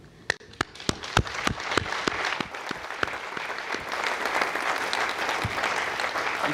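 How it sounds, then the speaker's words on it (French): Audience applause at an Arianespace Vega launch event, opening with a few sharp separate claps that quickly swell into sustained, dense clapping from a large crowd filling the room. "il faut applaudir pour Frascati"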